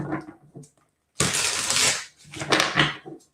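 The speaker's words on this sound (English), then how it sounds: "I'm shuffling, so hold on." A tarot card deck is shuffled by hand up close, with two crisp riffling bursts separated by short pauses and no voices.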